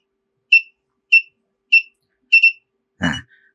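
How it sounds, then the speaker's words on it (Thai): Four short, bright electronic beeps from an active buzzer module at a steady pace, the last one doubled, followed by a brief clunk; clear and close with no talking. "พร้อมกับจะมีเสียงบัสเซอร์ติดตามจังหวะที่เรากำหนดไว้ในโค้ดขึ้นมา"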